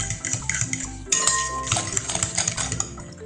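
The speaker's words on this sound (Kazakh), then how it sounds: "Екеуін жақсылап араластырамын" Whisk clinking steadily against a bowl while beating eggs with sugar, a quick rhythmic metallic tapping and scraping, close and clear with no voices.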